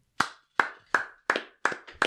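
Hand clapping during a podcast conversation, six or seven slow, distinct claps at a steady pace, close and crisp with silence between them.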